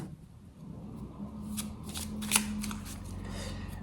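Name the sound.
tarot cards being shuffled and laid out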